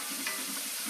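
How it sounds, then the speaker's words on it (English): Pancetta frying in a pan for spaghetti alla carbonara, a steady soft sizzle running throughout with faint stirring scrapes, close and moderately quiet. "we're going to quickly fry up the pancetta"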